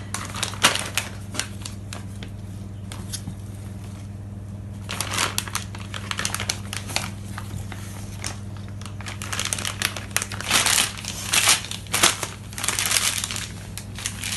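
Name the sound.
dessert mixture being filled into a plastic piping bag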